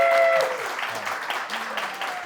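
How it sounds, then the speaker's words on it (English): Audience applause for Alex Kade at a talk event, loud at the start and then easing into a steady, moderate patter of clapping with faint tonal sounds mixed in. "Please give me a round of applause for Alex Kade."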